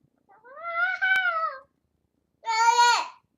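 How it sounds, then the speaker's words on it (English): A cat gives two separate meows, the first longer and wavering, the second shorter and higher-pitched, with a brief click between them and no purring audible. "Oh, it's that witch cat again."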